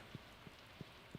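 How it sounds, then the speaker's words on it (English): Rain in the Stardew Valley farming game, heard as a faint, steady wash of rainfall with a few soft low thumps spaced through it and no talking. "I hear rain."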